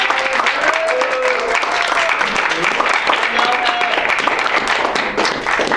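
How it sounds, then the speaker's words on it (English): A Visiting Writers Series audience gives writer Michael Gray Bulla another round of applause: a dense, continuous wash of clapping from a close crowd, with scattered cheers and voices over it throughout. "One more round of applause for Gray."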